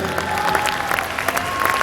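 Hearty audience applause fills a hall at an annual corporate event, a dense, steady wash of many hands clapping at once, loud and continuous for its brief span.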